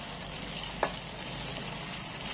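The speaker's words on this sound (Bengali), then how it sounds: "আলুগুলো ভেজে নিচ্ছি" Potatoes frying in hot oil in a kadai give a steady, moderately loud sizzle throughout, broken by one short clink of a utensil partway through; no one speaks.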